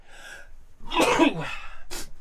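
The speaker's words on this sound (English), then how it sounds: "I'm going to sneeze in a second" A single loud sneeze with a sharp intake and burst, followed by a brief second exhalation; close and alone, no talking.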